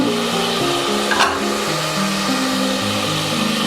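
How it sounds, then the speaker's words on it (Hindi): Steady sizzle of mutton paya frying with spices in a pot, a continuous close hiss with a faint stirring scrape partway through, no voices. "तीन 4 मिनट के लिए हम इसको भून लेंगे, फिर उसके बाद मसाले डाल के फिर हम उसको भूनेंगे।"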